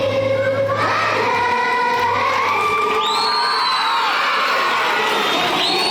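A large concert crowd at a show sings loudly in unison with sustained pitched voices, mixed with cheering and whoops, a dense, constant wall of crowd sound.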